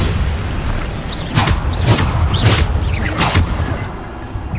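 Bombarda spell blasts in a Hogwarts Legacy trial land as about four loud booming bursts in quick succession, each a broad whooshing impact over rumbling game ambience.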